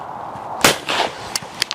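An old Merkel German shotgun, roughly 50 to 60 years old, fires at a clay shoot. A single loud, sharp blast rolls off into a short tail, followed by a couple of fainter, distant pops.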